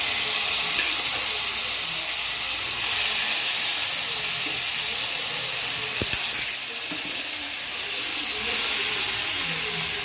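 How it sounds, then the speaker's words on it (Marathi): Dal hisses and sizzles loudly in hot ghee in a pan, a continuous close frying hiss with a brief stir or clatter partway through. "साजूक तूप घालून घेतलेले मी आता आपण याच्यामध्ये डाळ घालून घेऊ"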